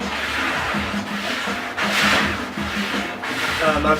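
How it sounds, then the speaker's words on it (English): A vinyl stencil being rubbed down onto a screen printing mesh, producing a steady scratchy friction that rises and falls in strokes, with a voice talking quietly underneath. "you just give it a little rub on there"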